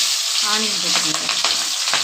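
Onion, green chili and ginger frying in hot oil for vegetable semiya upma give a loud, continuous close sizzle with crackling bursts and light stirring throughout.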